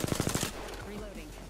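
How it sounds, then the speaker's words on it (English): Rapid automatic gunfire in the Apex Legends video game, a loud close burst of about six evenly spaced shots that cuts off abruptly, followed by quieter game sounds. "I am taking fire, friends"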